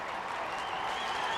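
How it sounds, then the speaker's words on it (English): A baseball crowd of Tigers fans in Tampa applauds Aubrey Huff's stand-up double with a steady, dense wash of clapping and cheering. It stays even and moderately loud throughout the short stretch. "he gets a nice round of applause from a lot of Tiger fans"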